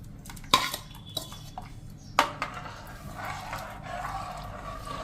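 A spoon stirring milk with cashews and sugar in a pan for sitafal basundi: two sharp metallic knocks against the pan, then lighter clinks and soft scraping, close and fairly quiet.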